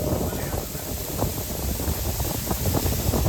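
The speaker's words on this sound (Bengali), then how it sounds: "ভয়ঙ্কর হাওয়া হচ্ছে, এখানে দেখেই বোঝা যাচ্ছে" Strong wind on a mountain road in Arunachal Pradesh between Bhalukpong and Dirang roars steadily into the microphone, a loud continuous rush with gusty buffeting and no voices.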